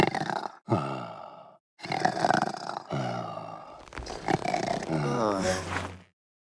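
A voice imitates a sheep snoring, giving several drawn-out, rasping, groaning snores with short pauses between them, loud and close.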